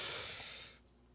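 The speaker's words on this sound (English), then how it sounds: "A lot of heavy breathing here." A single heavy, breathy exhale rushes out loud and close, then trails off into a softer hiss after nearly a second.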